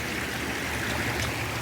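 Water pours steadily from a submerged spring outflow pipe, a dense, loud, unbroken rush and gurgle that stays close and even throughout.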